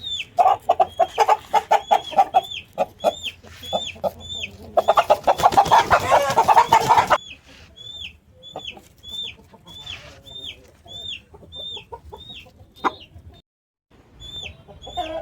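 Roosters cluck and chatter continuously, close by, with rapid repeated calls and a brief burst of louder flapping and squawking partway through.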